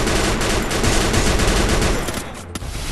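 Rapid bursts of gunfire in the Free Fire battle royale game, loud dense overlapping shots filling the whole stretch with barely a break.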